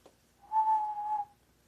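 A person whistles one clear, steady tone held for under a second, close and alone against a quiet room.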